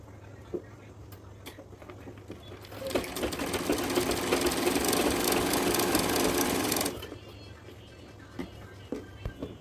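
Sewing machine stitching the waistband of a salwar, a fast rattling run of about four seconds between quiet pauses with faint clicks from handling the fabric.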